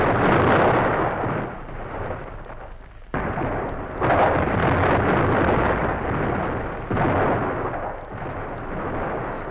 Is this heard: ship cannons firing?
yes